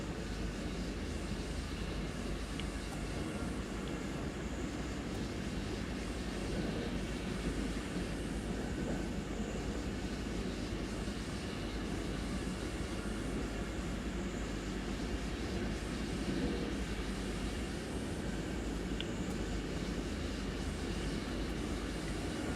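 Train rolling along the Stuttgart–Heilbronn route in the Train Sim World 6 video game, a steady continuous rumble of wheels and motor at an even level, with faint squeaks and no talking.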